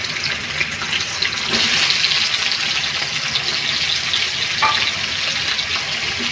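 Potatoes dropped into hot oil in a pan for a ridge gourd and potato curry, giving a steady broadband sizzle that swells as they go in, close and continuous with no talk.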